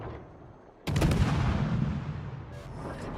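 Warship main guns firing at a Daring destroyer in World of Warships, a sudden loud salvo crashing in after a quiet start, then a rumbling decay with faint talk over it.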